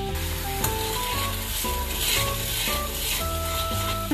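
Water and sugar simmer in a frying pan for caramel sauce, a steady bubbling sizzle with faint stirring and a soft clink near the end, close and without talk.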